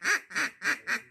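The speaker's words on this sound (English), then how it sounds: "we can sit out here and shoot ducks all day." Ducks quack in flooded woods during a hunt, four evenly spaced, fairly close raspy quacks in quick succession, heard alone without talk.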